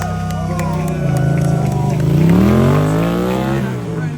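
Stunt motorcycle engine revving hard at full throttle, a loud sustained howl rising and falling in pitch as the bike spins, with a crowd murmuring underneath.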